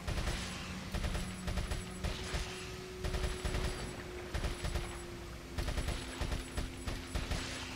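Rapid bursts of TMP submachine gun fire in Resident Evil 4 HD, with several rattling volleys spread through the scene, loud and close, over continuous game background noise and no talk.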